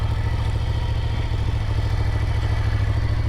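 A Ducati superbike engine runs while riding, a loud steady low rumble with a continuous mechanical drone and no break, close to the rider and free of talk.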